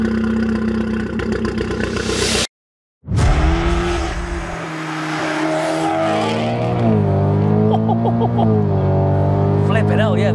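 A fully built 600bhp Audi S3 8V roars loudly up close: a brief silence, then the engine fires and revs, climbing through rising gears as it accelerates hard, with tire noise and clatter.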